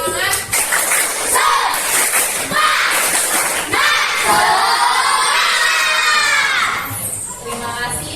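A classroom of students doing a rhythmic 'tepuk semangat' clap chant at the end of a lesson, loud children's voices shouting and chanting together in bursts with claps, close and energetic throughout.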